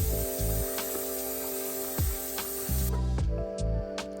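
Vegetables being washed under a running tap, a steady hissing stream of water broken by several sharp splashing bursts as the produce is moved about, close and loud with no talk.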